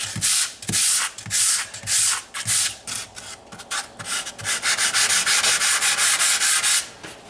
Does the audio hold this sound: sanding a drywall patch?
yes